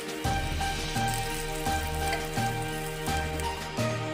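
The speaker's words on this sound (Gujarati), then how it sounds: "ઉપર ફરતું ફરતું તેલ નાખી દઈએ" Pudla sizzle in oil in a pan, giving a steady, close frying hiss broken by regular rhythmic clinks and scrapes, with no voices.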